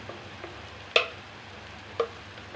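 Masala roasting in a pan for a rural-style rajma rassa, a soft low sizzle with two distinct clinks of a spoon stirring against the pan.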